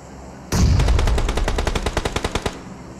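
Automatic gunfire in the mobile game PUBG Mobile, a loud close burst of about a dozen rapid, evenly spaced shots lasting around two seconds, with no voices.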